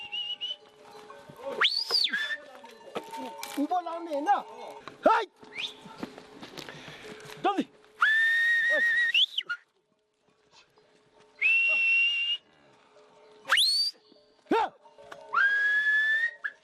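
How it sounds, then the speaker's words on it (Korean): Sharp, high whistles from a herder leading yaks on a Himalayan plateau at 3,500 m in Nepal, blown in short rising bursts, some long and sustained, with soft hoof-like clopping and rustling between them outdoors. "야크와 쩌우리를 이끄는 건 목동의 휘파람 소리입니다."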